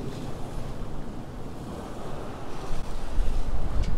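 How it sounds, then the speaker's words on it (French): Sea swell washes steadily around a sailing boat off the Île de Batz in the English Channel, a continuous broad rushing of water mixed with wind buffeting the microphone, growing slightly louder toward the end. "Il y a un peu de houle."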